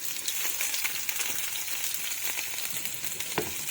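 Cumin, garlic and ginger fry in hot oil for an Indian dal tadka, a steady close crackling sizzle with scattered sharper pops and an occasional stir, with no talk.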